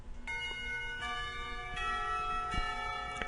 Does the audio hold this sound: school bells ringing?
yes